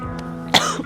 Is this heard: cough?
yes